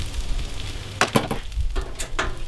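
Food sizzles as it is laid onto a hot grill, a soft frying hiss with a few sharp clicks and scrapes, heard close up with no talk.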